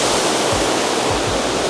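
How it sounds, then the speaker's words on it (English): Steady, dense rush of falling water from a spa rainfall shower on a cruise ship, pouring continuously close by, with no voices. "And this is the rainfall with the water beds back there."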